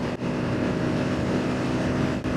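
Dafra NHX 190 single-cylinder motorcycle engine running steadily, a continuous close, loud engine drone with a steady low hum and no talk over it.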